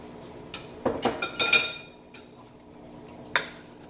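Raw potatoes tumble into a pot of Jamaican curry goat, a few quick knocks and clinks against the metal in a short cluster, followed by a lone clink a moment later.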